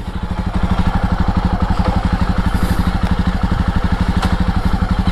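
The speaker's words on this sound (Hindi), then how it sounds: "और इस बाइक की लुक्स को काफ़ी कॉम्प्लीमेंट करती है ये साउंड." A Jawa Perak motorcycle engine chugs loudly while riding, a rapid, even thumping beat that holds steady close up for several seconds with no talking.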